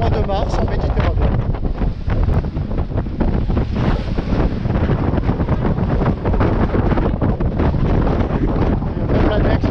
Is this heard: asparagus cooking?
no